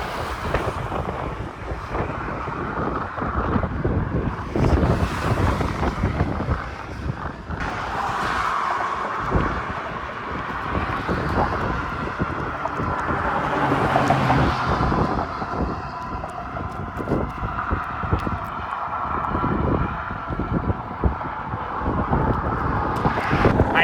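Strong gusts batter the microphone high on a coastal bridge, a continuous roaring rumble that swells and dips over the whole stretch, with no talking.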